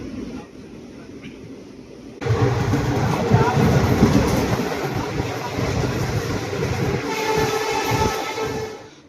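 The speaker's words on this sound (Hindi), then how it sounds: "गोगा मैडी स्टेशन पर। और हमारा कोच नंबर जो है वो है S7, और उसी के अंदर बैठा है मेरा मित्र वीरू।" Inside passenger train coach S7 at Gogamedi station in India: a quiet start gives way to a loud, continuous rumble and clatter of the moving carriage, with people talking in the background.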